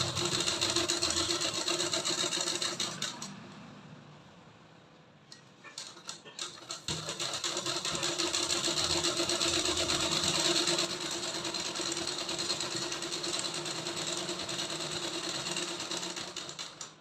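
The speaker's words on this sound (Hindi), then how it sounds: "इस पे जो है कि डबल सिलाई चला लेंगे।" A sewing machine runs a double stitch on palazzo fabric, a loud, close, fast mechanical whir that slows and pauses briefly partway, then resumes at full speed and runs steadily to the end.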